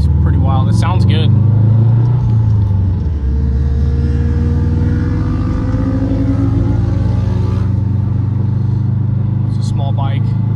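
A big-turbo Subaru WRX accelerates hard, its loud, close engine holding a deep rumbling roar through a long sustained pull with rising tones, brief voices audible near the start and end.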